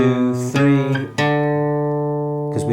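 Two strummed guitar chords, G then A, each ringing out fully and decaying slowly. A soft pick or finger attack is heard just before the second chord.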